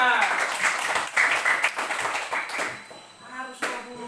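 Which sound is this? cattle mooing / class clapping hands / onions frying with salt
class clapping hands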